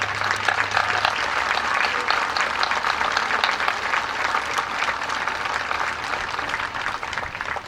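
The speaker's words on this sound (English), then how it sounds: "Let's give them a round of applause." A crowd gives sustained, dense applause for the parents of graduates at a Class of 2020 graduation ceremony. The clapping stays loud and even for several seconds and tapers slightly at the end, with no talking over it.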